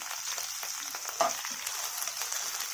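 Curry leaves and chana dal fry in hot oil for a bhindi fry, giving a steady, soft sizzle with a brief louder crackle near the middle and no voices.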